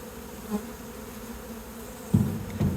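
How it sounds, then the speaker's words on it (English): A steady close-up drone of many honeybees buzzing around a hive, with a couple of louder bumps and thuds near the end. "And there is a substantial amount of bees on the lid."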